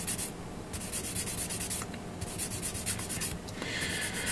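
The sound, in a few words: sanding a Gundam model kit part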